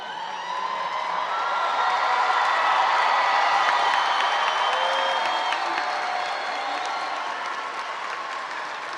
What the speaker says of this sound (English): Give them one last cheer.